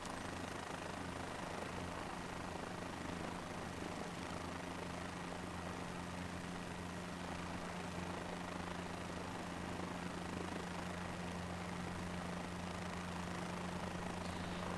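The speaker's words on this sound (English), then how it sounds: "this is obviously in a helicopter" Helicopter flying in Microsoft Flight Simulator 2024: a steady, loud rotor and engine drone with a constant low hum runs without break for the whole stretch, no voices.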